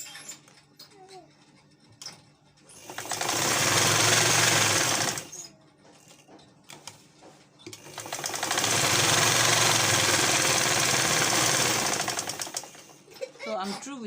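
A sewing machine stitches fabric for a cap in two long sustained bursts of fast, even running, separated and bracketed by quieter pauses with faint handling noise.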